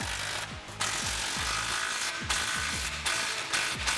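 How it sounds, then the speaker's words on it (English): A ratchet with a 15mm socket tightens exhaust band clamps on a 2011-2014 Ford F150 3.5L EcoBoost MBRP side-exit system, giving repeated close clicking strokes in an even rhythm with short pauses between bursts. "and then you can tighten them down"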